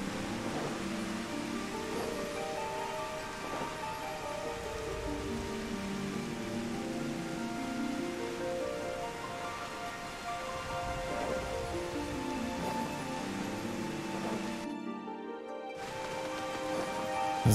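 Steady rain in Final Fantasy XIV, a dense, even patter and hiss of drops on surfaces that runs unbroken and moderately loud, with a brief dropout near the end and no voices.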